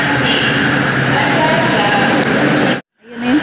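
A metro train arrives at a station in Kuala Lumpur with a loud, broad roar and rumble of wheels and motors that holds steady, then cuts off abruptly before a brief low sound returns, with some talking mixed in.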